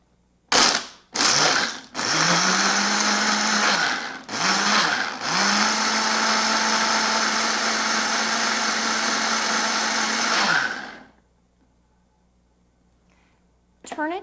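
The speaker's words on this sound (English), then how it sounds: "Now you're ready to start pulsing." A Ninja Pulse blender pulses juice in its single serve cup: a few short bursts of loud motor whine, then one long sustained blending run of about nine seconds that cuts off sharply.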